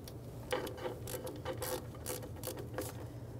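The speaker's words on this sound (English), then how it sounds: "now with our 3/8 socket, I can really snug up on these mounting bolts" A 3/8 socket ratchet clicks in quick, uneven runs of pawl ticks while tightening wheel cylinder mounting bolts on a 1996-2006 Jeep Wrangler rear brake, close by and fairly quiet over a low hum.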